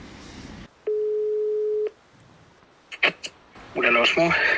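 Outgoing telephone call: a single steady ringing tone of about one second after a cut, followed by clicks and then a voice answering on the line.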